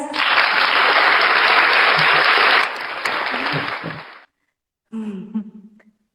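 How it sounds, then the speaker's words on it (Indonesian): Clapping from an audience at a magic show rises loud and dense for about four seconds, thins out and stops, followed by a brief voice after a short silence. "Tepuk tangan buat Koko kita guys"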